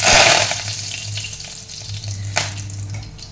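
Curry leaves dropped into hot oil on a lowered gas flame crackle and hiss loudly at first. The sizzle then settles into a steady spatter, with one sharp pop near the end.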